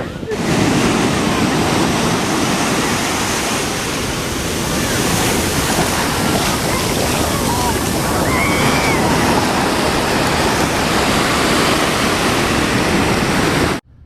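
Loud, continuous surf at a beach, waves rolling and crashing up close with heavy wind buffeting the microphone for the whole stretch before it cuts off abruptly.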